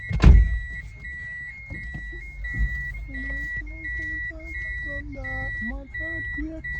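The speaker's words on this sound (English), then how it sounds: "Let me drive out." A car pulling away with a low engine rumble, a steady electronic tone and short warning beeps, with a clunk near the start and people talking over it.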